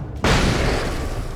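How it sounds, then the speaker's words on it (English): A flashbang grenade going off in the Alan Wake video game, one sudden loud bang followed by a long, bright, ringing wash of noise that slowly fades. "Enjoy a flashbang."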